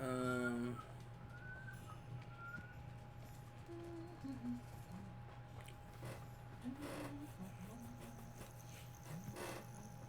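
Soft cooing from a bird in Hogwarts Legacy, faint calls drifting over a steady hum of ambient insect chirps and background game atmosphere.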